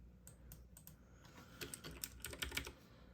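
Typing on a computer keyboard, a run of quick, close key clicks with irregular rhythm that grows busier toward the end, with no talking.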